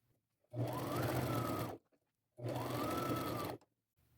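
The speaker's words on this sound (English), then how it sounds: "I am going to do a double stitch, just like I did the flap, go around it twice for durability" A sewing machine double-stitches a purse seam with a quarter-inch seam allowance in two steady bursts of close motor whir, each lasting about a second, with a short pause between them.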